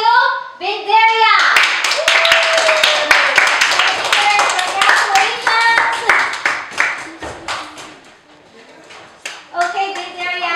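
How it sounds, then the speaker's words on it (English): Children and adults at a spelling bee for third to fifth graders clap in a round of applause, sharp handclaps close by mixed with children's voices and excited chatter, thinning out toward the end. "Let's give a round of applause to Binderia."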